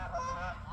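Geese honk loudly and agitatedly from a garden pond, a close, continuous burst of overlapping nasal calls with no talking.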